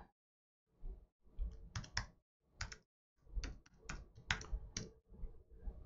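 Uneven bursts of typing on a computer keyboard while entering login details for a server console, close and fairly quiet, with short pauses between clusters of keystrokes and no talking.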